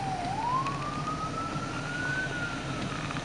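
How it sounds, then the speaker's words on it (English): A Montreal ambulance siren rises in one long slow wail over steady traffic and road rumble, heard from a moderate distance through a car. "Of course, it's an ambulance."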